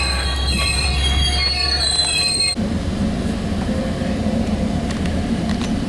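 Loud, close squealing wheels of a Sound Transit Sounder commuter train, train 1513 bound for King Street Station in Seattle, as it pulls away, with high metallic tones that drop into a steady rolling rumble.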